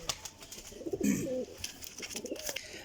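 Kamgar pigeons cooing in a short burst of low, throaty, rolling calls near the middle, with fainter coos after, against a steady background hiss.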